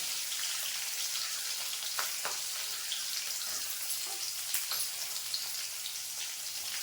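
Curry leaves, green chilies and onion sautéing in a pan for a carrot, bean and potato kurma, giving a steady, dense sizzle with occasional crackles and pops, no voices.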